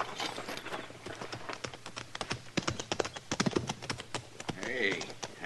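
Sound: horses approaching, hooves clip-clopping, radio drama effect

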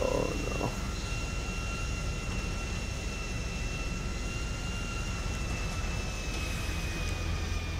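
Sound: airplane landing on runway in GTA V video game

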